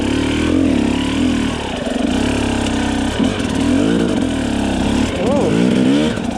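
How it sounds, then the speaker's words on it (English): A dirt bike engine lugs at low revs during a hill start on a slick slope, a loud, close, uneven chugging with small rises and dips in pitch, and a voice talks over it. "Just let my bike lug."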